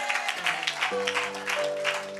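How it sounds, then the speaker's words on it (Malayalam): A church congregation at a morning prayer service claps in a quick, steady rhythm, the many hands sounding over sustained keyboard chords. "സഭയൊന്ന് കൈയടിക്കാൻ പറ്റുമെങ്കിൽ ഒന്ന് കൈയടിച്ച്"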